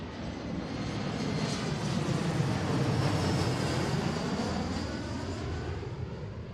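A 175 jet airliner arriving from Spokane at Seattle passes as a steady, broad roar of engine noise that swells gently in the middle and stays loud throughout, with no talk over it.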